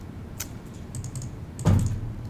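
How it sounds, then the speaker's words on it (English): Keystrokes on a computer keyboard at a desk during 3D software work, a few light, scattered taps followed by one heavier press, fairly close and with no voice over them. "press tab and type Alembic"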